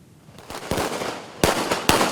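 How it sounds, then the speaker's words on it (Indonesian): Firecrackers go off in a human firecracker performance opening a mass wedding event in Tangerang, with a fast crackle building into several loud, sharp bangs close by. "Acara dibuka dengan atraksi manusia petasan"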